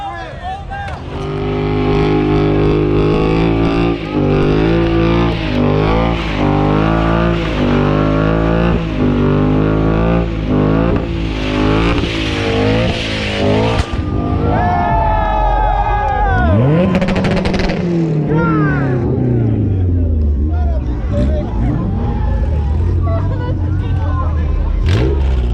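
At a street car meet, a car does a burnout, its engine revving hard and rising in pitch, then bouncing off the limiter as the tires spin and screech. It's loud and close, and a crowd can be heard over it.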